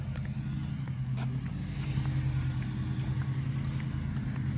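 Cars pass along a city street in the United States, a steady, fairly loud rumble of engines and tyres that continues without a break and has no talk over it.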